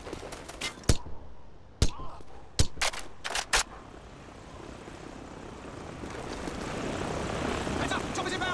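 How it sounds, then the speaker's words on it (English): Helicopter flying in during a Call of Duty 4: Modern Warfare battle, its rotor roar building steadily after a run of sharp gunshots, with soldiers shouting over the noise. "Heads up! Chopper is inbound!"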